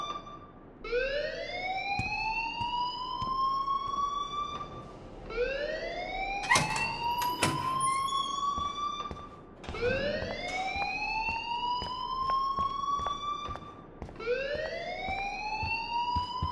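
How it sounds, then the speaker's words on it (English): A repeating electronic school alarm in the video game Life Is Strange, rising whoops that sweep upward again and again in a steady cycle, loud and continuous throughout with no talking. "please turn off that alarm since that's your job"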